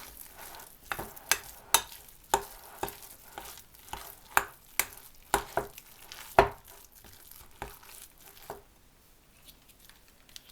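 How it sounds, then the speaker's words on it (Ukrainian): Spoon stirring a mayonnaise-bound sandwich spread mixture in a bowl, heard as a series of sharp, close scraping taps roughly every half second, alone without talk and fading near the end. "Тепер додаємо майонез і ще вимішуємо."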